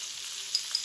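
Potatoes sautéing in a frying pan with salt and black pepper, a steady close sizzle with a couple of faint clicks.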